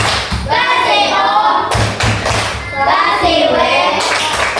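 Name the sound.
clapping hands, a class's 'wow' clap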